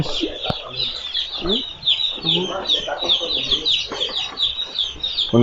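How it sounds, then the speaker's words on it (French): Chicks released into a poultry house fill the space with dense, continuous high peeping from many birds at once, close and busy, with a few thumps and handling noises underneath. "donc là c'est le lâcher des poussins"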